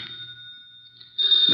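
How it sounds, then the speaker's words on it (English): A telephone bell rings in an old-time radio detective drama, a steady high electric ring holding for about a second before a louder burst and rustle at the end. "The phone."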